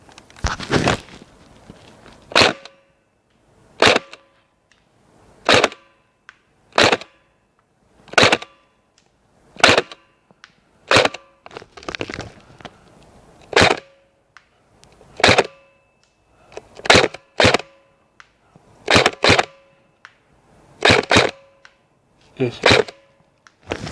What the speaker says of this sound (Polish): Próba strzelecka, odległość około 50 metrów, około 10 strzałów.